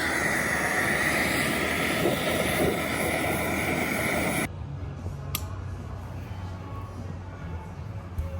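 A torch heats seized bolts on a turbocharger during an IDI diesel turbo rebuild, giving a loud, steady broadband roar that cuts off about halfway through, leaving a quieter background with one brief click.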